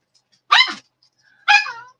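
A little deaf dog barks twice, close and sharp, with a short silent gap between the two barks, as she pleads to be taken for a walk.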